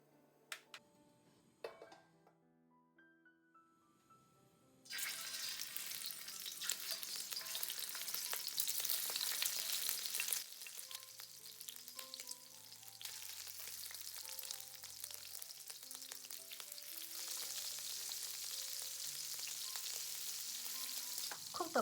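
Shrimp sizzling and frying in hot vegetable oil in a pan, a loud, steady crackle that starts abruptly after a few quiet seconds of light clinks, with occasional stirring sounds and no talking.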